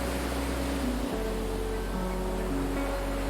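Ocean waves as a steady, full rush of surf noise, continuous and fairly loud, with faint soft tones layered beneath.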